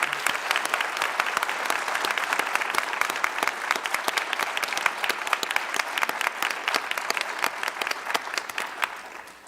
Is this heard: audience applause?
yes